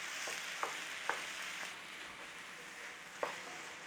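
Thick corned beef gravy cooking in a pan, a steady soft sizzle and bubbling hiss throughout, with a few sharp pops and spits breaking through at intervals.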